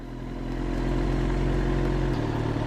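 A 1000cc motorcycle pulls away gently as its clutch is let out, with no throttle applied. A steady, low engine drone is heard up close, rising slightly in loudness and holding even, with a slight shift in tone near the end.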